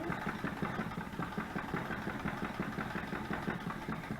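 A domestic sewing machine stitches fabric journal pockets, a steady rapid mechanical whir with fine rhythmic ticking, continuous and fairly quiet, with no talk.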